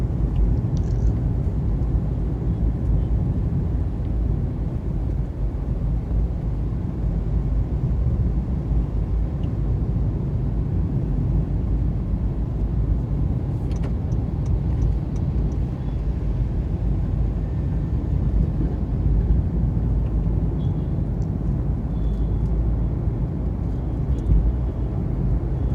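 A steady low road rumble and engine drone fill a car cabin while cruising along a straight road, constant and unbroken with no talking.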